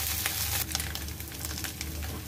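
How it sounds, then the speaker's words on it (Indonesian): Turnip cake frying in a pan of oil, a steady close sizzle with bright crackling that continues evenly throughout with no talking. "Goreng hingga bagian dalam berwarna kuning keemasan."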